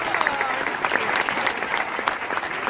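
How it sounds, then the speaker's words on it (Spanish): Audience applause at a Mexican stand-up comedy show, a dense, steady burst of clapping that fills the whole moment at close range with no talk over it. "Ese aplauso que sea para Mario."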